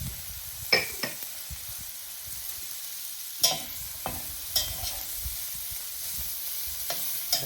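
Onions and vegetables sizzle softly in a pan on medium-high heat for beef stroganoff, a steady low frying hiss broken by scattered clinks and scrapes of a spoon stirring against the pan, close and alone.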